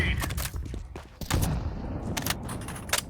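Video game combat with repeated sharp gunfire bursts and heavy blasts, including a flashbang and a grenade, loud and close, interspersed over the full duration with a voice talking in the background.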